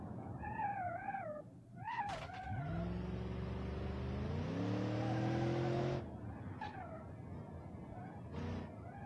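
A Gavril Grand Marshal drives in BeamNG.drive, its engine holding a steady droning tone that climbs in pitch as it accelerates, then cuts off, alongside a few higher squealing tones.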